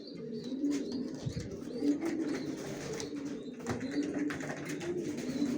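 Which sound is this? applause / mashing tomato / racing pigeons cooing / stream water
racing pigeons cooing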